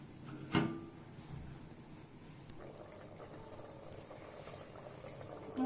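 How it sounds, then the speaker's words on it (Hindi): Chicken kofta biryani simmering in a covered pot, a soft steady bubbling hiss after a sharp clank of the lid being set on, staying even and quiet throughout. "अब इसको ढक के 2 मिनट के लिए पकने दीजिए"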